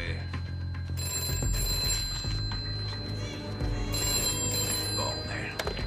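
A telephone bell rings repeatedly in a tense scene from a French-dubbed Jason Statham action film, its steady tones sitting over a dense low rumble of background noise and music.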